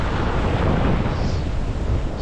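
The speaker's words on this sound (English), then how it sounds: "Start here in the ocean surf." Ocean surf on a Long Island, New York beach in November, a loud steady wash of breaking waves with heavy wind rumble across the microphone, no voices.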